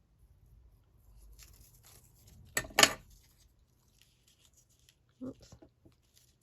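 Scissors snip through scrapbook paper around a strip of ivory lace: a quick cluster of crisp cuts, then a couple of fainter snips, close and quiet in an otherwise still room.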